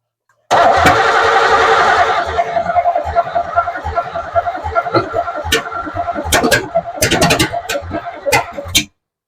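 A 350 V8 in a third-generation car cranks and catches, then idles roughly with clattering bursts and sharp clicks, loud and close, with some laughter and voices mixed in.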